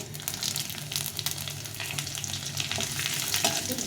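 Panch phoron, dried red chilli and bay leaf frying in hot oil, a close, steady crackling sizzle with scattered pops and a faint stirring scrape, no voices.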